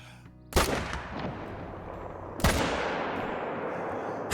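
Two loud rifle shots ring out at deer in theHunter: Call of the Wild, spaced about two seconds apart, each a sharp crack trailing into a long, rolling outdoor echo, with no voices.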